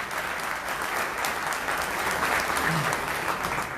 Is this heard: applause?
yes